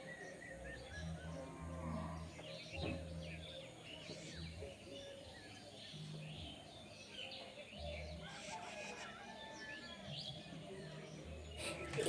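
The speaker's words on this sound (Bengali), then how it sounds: "এই যে পাখিদের কলকাকলি এটা কিন্তু আমার খুব ভালো লাগে শুনতে" Birds chirp faintly on a rooftop in the early morning before sunrise, with scattered light calls over a quiet background and occasional low distant animal sounds.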